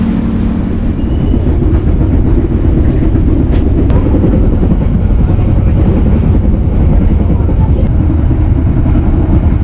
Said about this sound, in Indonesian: Setelah itu kereta api ini akan diberangkatkan kembali.